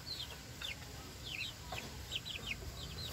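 Four-week-old Rhode Island Red chicks give soft, quiet clucks and chirps in short scattered bursts over a low background rumble.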